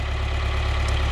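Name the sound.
older farm tractor engine running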